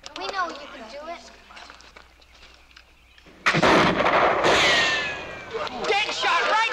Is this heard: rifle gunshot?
yes